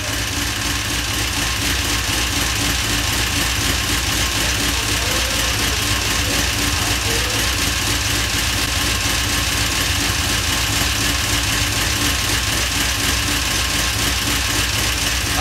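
A 1970 Cutlass with a 6.0 engine, stage 2 cam and base tune idles steadily, its loud lifters ticking over a continuous low, lopey rumble close by.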